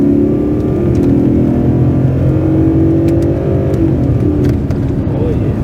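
A BMW 740i police car with an M63 engine revs hard, a loud, low, rising engine roar heard close up from inside the car, with people talking over it.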